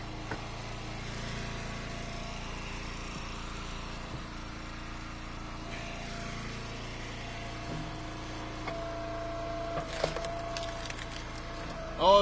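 A log splitter's engine drones steadily while semi-seasoned red oak firewood rounds, 8 to 12 inches across, are split outdoors. There are faint knocks and a brief louder burst near the end.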